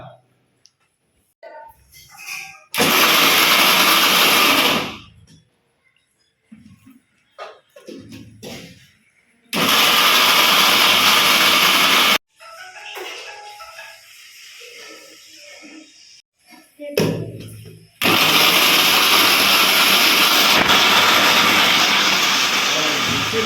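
Kitchen mixer grinder blending raw coconut chutney, loud roaring whir in three separate bursts of a few seconds each, with quiet pauses and brief talk between them.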